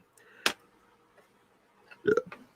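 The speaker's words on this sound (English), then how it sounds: "Little tiny burp." A small, short burp near the end, after a soft click or mouth sound earlier; quiet and close.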